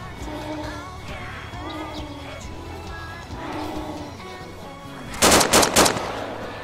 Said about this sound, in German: Schieß auf die Zombies.